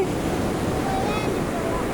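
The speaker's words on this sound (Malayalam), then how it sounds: "ഇത് പുഴയല്ല, ഇത് ബീച്ചാണ്. ആ, കടല്." Sea waves at Kozhikode beach roll in as a steady, broad wash of surf, with wind noise buffeting the microphone.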